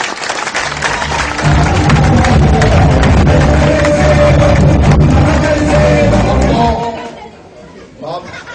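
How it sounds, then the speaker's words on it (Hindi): A large crowd at a public political gathering in a ward claps and cheers loudly and steadily for about seven seconds amid chatter, then the applause dies away to quieter murmuring. "उनके लिए जरूर ताली बजाएंगे"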